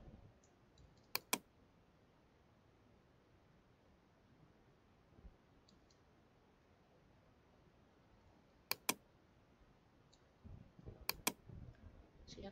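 Sharp keyboard key presses for a Photoshop shortcut come in separated bursts of two or three quick clicks over a quiet, faintly hissing room, with soft handling noise near the end.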